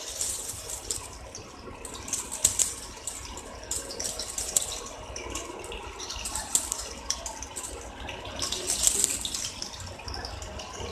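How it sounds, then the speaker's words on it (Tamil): Egg fingers deep frying in hot oil in a kadai, a steady bubbling sizzle with crackling spits that rises and falls for about eleven seconds, heard alone without talk. "இப்போ நம்ம இதை டீப் ஃப்ரை பண்ண போறோம். இப்போ கடாயில எண்ணெய் வச்சிருக்கேன் நம்ம டீப் ஃப்ரை பண்ணி எடுக்கிறதுக்கு."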